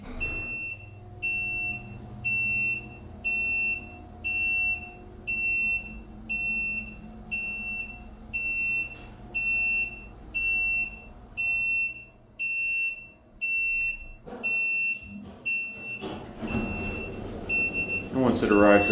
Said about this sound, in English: the alarm will sound upon turning it to off